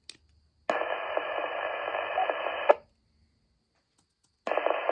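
A Radioddity DB40-G 40-watt base-mount two-way radio hisses with static during a transmission: a click, a steady two-second burst of noisy carrier that cuts off, silence, then another burst starting.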